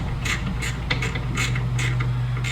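A close, steady mechanical creak with repeated ratcheting pulses sounds as a fine-thread 7/16 bolt on the wheel motor of an ISX 2200 riding mower with ZT4400 transaxles is broken loose by a wrench.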